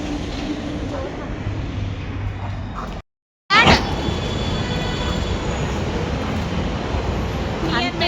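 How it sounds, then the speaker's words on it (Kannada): A metro train rumbles steadily at a station in Mysore, with loud, continuous rolling noise and a brief dropout partway through. "ಇಂತೂ ಬಂದ ತಲುಪಿದ್ವಿ ಮೆಟ್ರೋ ಸ್ಟೇಷನಿಗೆ ಈಗ ಹೋಗಿ ಮೆಟ್ರೋ ಟ್ರೈನ್ ಹತ್ತಬೇಕು"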